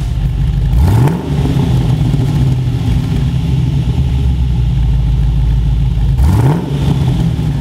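An LS V8 fitted with a mild E5 camshaft runs at a smooth, mellow idle, a steady low rumble with two brief revs near the start and end, loud and close.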